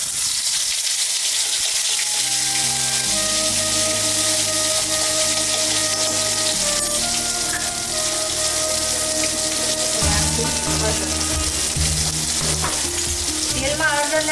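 Cumin seeds and ginger-chili paste sizzle and crackle loudly in hot oil for a Gujarati masala khaki pav, a steady frying hiss with scattered pops and a low hum throughout.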